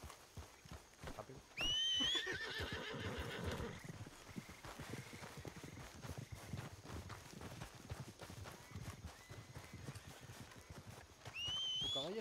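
A white horse in a western roleplay video game whinnies loudly twice, once near the start and again near the end, while steady hoof clip-clops run underneath.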